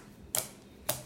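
Homemade slime gives two sharp, close clicks about half a second apart, faint but crisp against a quiet background.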